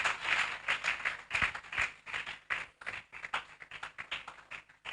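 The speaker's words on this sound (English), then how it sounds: "Keep clapping, keep clapping," Audience applause at a malaria health colloquium, a steady wash of many hands clapping for about five seconds, fairly close and lively, with no voices over it.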